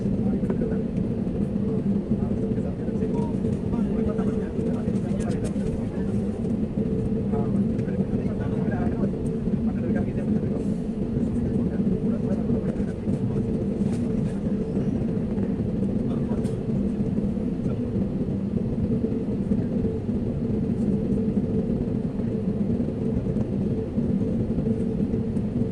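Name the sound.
airplane taking off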